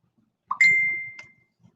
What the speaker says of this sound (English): let me turn my phone down so y'all won't hear that dinging